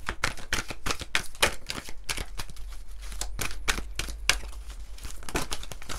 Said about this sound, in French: on va prendre juste quelques cartes de l'améthyste love